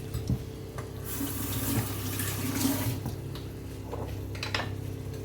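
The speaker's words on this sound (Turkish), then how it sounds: "Şimdi hemen elimi yıkadım." A kitchen tap runs steadily while hands are washed beneath it, a close, even stream of water splashing into the sink, with soft knocks and splashes but no speech.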